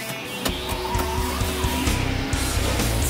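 A car slides sideways in a handbrake drift, tyres squealing steadily over a revving engine for a few seconds, close and loud.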